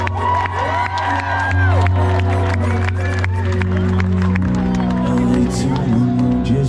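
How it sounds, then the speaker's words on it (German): A large crowd at the Rocco del Schlacko 2023 festival cheers and applauds loudly and steadily, with whoops rising over a music backdrop. "Ein riesen Applaus für Armin Bach."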